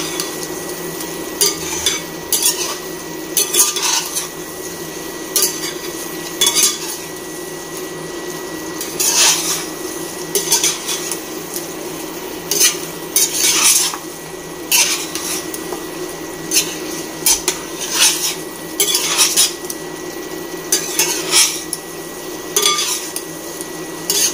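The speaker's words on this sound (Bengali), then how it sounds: "এখন ঘন ঘন নাড়তে হবে যাতে পুড়ে না যায়।" A spoon scrapes and clinks steadily against a pan as mutton curry is stirred, in repeated metallic strokes over a soft frying sizzle, close and clear with no talking.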